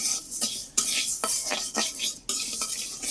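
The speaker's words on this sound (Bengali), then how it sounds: "মুগ ডালটা আগে ভাজি করতেছি" Mung dal being dry-fried in a pot on a village stove, with scraping spatula strokes and clinks against the metal in an irregular rhythm over a soft sizzle, close and alone.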